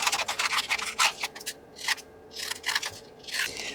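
Scissors snipping around a glued paper image for a whimsical house craft, with quick crisp cuts in uneven bursts and short pauses between them, close and clear.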